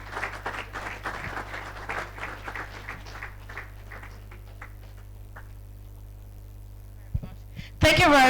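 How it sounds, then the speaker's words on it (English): Audience applause for the first keynote speaker at a UX event, a scattered round of clapping that fades away over a few seconds, leaving a quiet room before a voice and noise return at the very end. "A round of applause for our first keynote speaker for the day."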